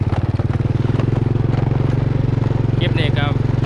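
A motorcycle engine drones close and steady while being ridden back past sugarcane fields in Laos, and a voice talks over it.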